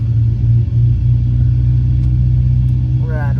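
A Cessna 152 engine drones steadily from inside the cockpit as the throttle is increased, a loud, even low rumble that holds through the whole stretch.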